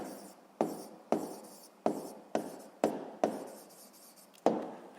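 Pen writing an answer by hand on paper, a series of seven sharp scratchy strokes at a loose, uneven rhythm, close and fairly quiet with no talking.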